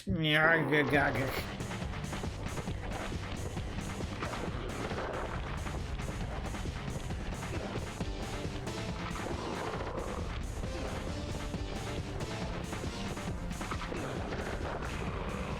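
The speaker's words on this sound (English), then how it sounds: "My beautiful gun is destroyed." Loud smash as a gun is destroyed in the Sly Cooper video game, an initial crashing impact that gives way to a continuous busy clatter of game effects and music with talk over it.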